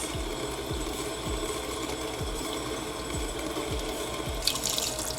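A household faucet runs steadily into a sink, giving a continuous close splashing hiss with no voices and a brief brighter spatter near the end.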